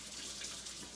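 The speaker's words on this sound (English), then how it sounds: "So let me just wash my hands again." Running tap water pours steadily into a kitchen sink while hands are washed, making a continuous close hiss with slight splashing and no talking.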